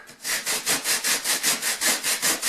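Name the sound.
sanding with fine sandpaper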